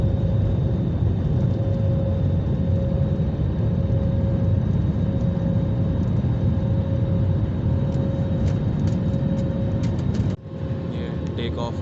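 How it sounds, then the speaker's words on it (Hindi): Cabin of a passenger airliner during takeoff, a loud, dense roar of engines and airflow with a steady high whine, lasting until an abrupt drop in level near the end. "अब हम टेक ऑफ करने लगे हैं"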